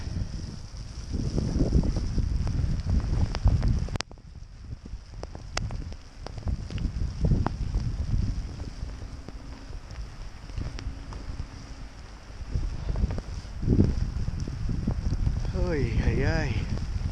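Strong blizzard wind gusts in loud rushing bursts with heavy microphone buffeting, while a person exclaims over it and a few thin tones rise briefly near the end.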